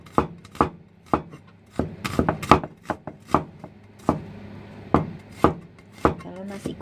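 A knife finely chops nasi goreng ingredients on a board in a restaurant kitchen, sharp irregular taps in quick succession, close and crisp, with brief talk in the background.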